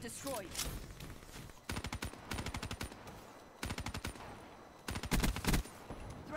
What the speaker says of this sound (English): I have a machine gun, a light machine gun.